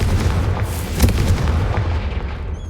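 A Confringo fire spell in Hogwarts Legacy hits with a loud, booming blast and crackling burst, followed by a rumbling tail that lingers for a couple of seconds.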